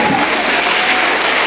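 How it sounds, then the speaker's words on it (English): Brief burst of dense, loud audience applause at an awards gala with a fashion show, steady clapping from a large crowd filling the whole moment. "Please give a big round of applause."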